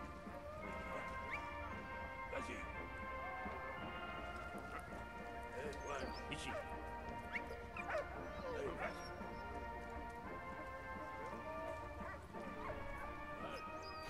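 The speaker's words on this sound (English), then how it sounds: "Dog is so excited!" A dog in the video game Valiant Hearts barks and yips excitedly, a steady run of sharp bursts with some whimpering, heard over continuous game music and sound effects.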